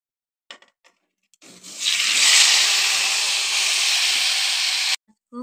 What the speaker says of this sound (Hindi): आलू को भून लें